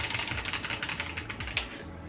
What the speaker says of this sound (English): this is me trying to make a sound on the keyboard